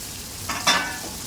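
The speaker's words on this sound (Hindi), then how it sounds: "इसमें डाल देंगे स्प्रिंग अनियन और इसको अच्छे से सौटे करेंगे" Leftover capsicum, onion and green chili being stirred in a hot pan for chilli chicken noodles, heard as a short close scrape and sizzle against steady low frying hiss.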